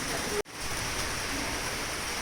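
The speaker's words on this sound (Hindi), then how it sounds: "मैंगलोर में बारिश हो रही है" Steady, dense rain pours at night in Mangalore, a constant hiss that fills the whole clip apart from one brief dropout.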